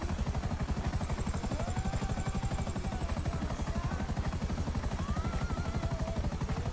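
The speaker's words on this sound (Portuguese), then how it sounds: "Esse helicóptero tá meio nervoso" Helicopter in GTA V Online flying over a game version of Los Angeles: a steady, dense rotor chop with engine drone that holds at constant loudness throughout, with no talk over it.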